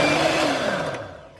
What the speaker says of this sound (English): And we'll blend the strawberries in.